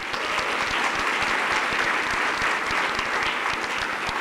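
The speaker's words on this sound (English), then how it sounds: "So give her a round of applause." Sustained applause from a crowd at a Newark fire recruit class graduation ceremony, dense and steady clapping throughout with no pauses.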